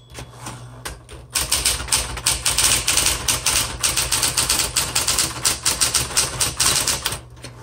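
A 1960s Smith Corona Coronet electric typewriter clatters in a fast, steady run of sharp keystrikes close up, starting after a brief pause and continuing loudly with no voices.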